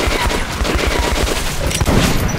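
Shotgun fire in the video game Metro Last Light, a dense run of loud blasts and clatter filling the whole stretch with no pauses, close and forceful.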